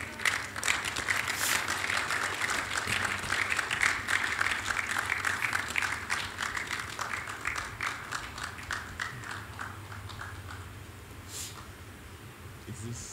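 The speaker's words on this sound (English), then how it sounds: "Let's give the Lord another round of applause." A church congregation applauds during a Sunday service, a steady wash of many hands clapping close by that slowly thins toward the end, with voices mixed in underneath.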